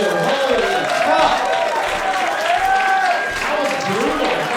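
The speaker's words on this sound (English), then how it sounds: "Round of applause for these two." An audience at a comedy roast battle in Denver gives a burst of applause, with crowd noise and clapping running steadily under overlapping voices and shouts for a few seconds.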